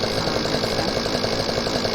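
A motorcycle engine from a GTA-based game runs steadily, a loud, even, buzzing drone with a rapid pulsing throb and no pauses.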